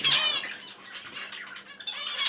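An opaline hen budgerigar squawks and flaps inside a bird shed, giving harsh, repeated chirps with bursts of wing flutter at the start and end, close and fairly loud with no talking.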